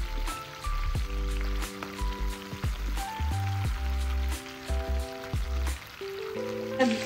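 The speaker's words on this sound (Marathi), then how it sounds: "दोन्ही साइडने आपण करून घेतले शॅलो फ्राय" Surmai fish shallow frying in a pan for a Malvani fish curry, giving a close, continuous crackling sizzle with scattered pops and small clatters, no talking.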